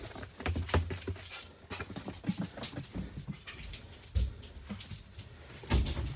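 Excited dog around a vintage bus at a bus rally, giving panting, whimpers and scrabbling bursts mixed with jangling keys and clattering, uneven and fairly close.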